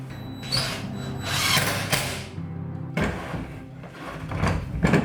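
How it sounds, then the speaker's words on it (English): Drywall screws driven up through the bottom of a homemade candy machine base with a power drill, bursts of drill whine and thumping broken by short pauses, close and fairly loud. "get a couple of drywall screws and screw it down from the bottom"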